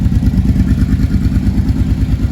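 A motorcycle engine runs steadily up close with a loose metallic rattle, likely from the exhaust, over its low, even throb; it is loud and heard alone without talk.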